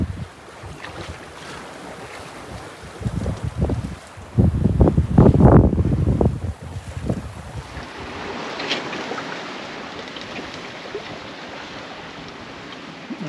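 Wind and sea rush steadily around a solo sailboat running dead downwind toward Arendal in strong wind and proper seas, with a louder surge of heavy wave slaps and buffeting in the middle before settling back into a constant roar.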